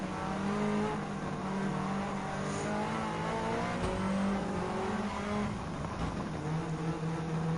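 Fully tuned race car engine in Gran Turismo 7 holding a steady, loud high-rev drone with rising and falling harmonic pitch, a continuous close roar with brief tire noise and no voices.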